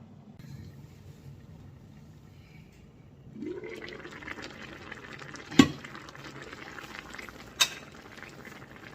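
Souss tagine left covered to simmer in its pot, a soft low bubbling murmur that rises a little partway through, with two sharp clinks of the lid or pot standing out.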